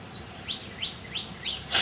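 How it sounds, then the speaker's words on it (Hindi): A small bird chirps outdoors, four or five quick, fairly faint high tweets spaced evenly, with a louder note at the end and no voices over them. "जैसे इसी क्षण पक्षी चहचहा रहा है"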